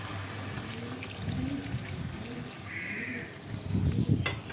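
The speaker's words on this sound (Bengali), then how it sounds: "এবার এর মধ্যে আমি জল দেবো" Water poured into a pan of braised goat meat curry makes a soft, continuous splashing and trickling that swells near the end, heard close over a steady background hum.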